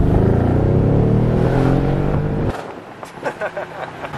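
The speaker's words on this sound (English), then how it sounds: "Yeah, it's definitely AMG. That motor, man." A Mercedes-AMG GLE 63 V8 engine revs hard and close, a loud rising growl that cuts off sharply halfway, followed by quieter idle rumble as someone talks over it.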